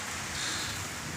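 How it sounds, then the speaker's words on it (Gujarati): Light wind blows during rain in the Gir countryside, a soft, even rush of noise that stays unchanged throughout the short stretch, with no voices. "આમાં થોડો થોડો પવન છે"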